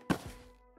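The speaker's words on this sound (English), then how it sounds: "switch mags right now, too" A single dull thunk of a gun magazine being swapped in the VR shooter Ghosts of Tabor, short and close, followed by a faint trailing tone.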